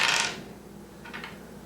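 Dice rolled across a table during a tabletop role-playing game make a sharp clattering rattle at the start. A second, softer tumble of clicks follows about a second later, with no talk.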